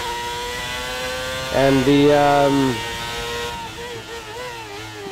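F1 racing car engines in the F1 22 video game rise and fall through gear changes, a loud surge of revving in the middle, then settle back to a steady high drone with a word of commentary over it.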